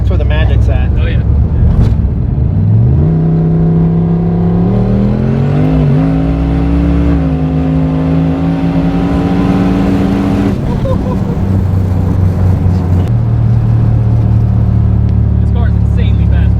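A 1300-horsepower Fox Body Mustang on high boost accelerates hard, its loud, close engine note climbing through the revs, dipping at a gear change, then pulling again in the next gear with a steady roaring drone.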